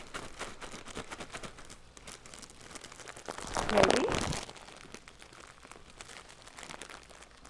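A plastic bag of frozen corn crinkles and rustles close by for a second or two as it is pulled open beside a skillet, with brief talk before and after.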